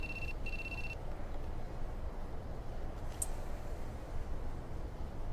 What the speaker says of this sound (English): Isn't that your phone ringing?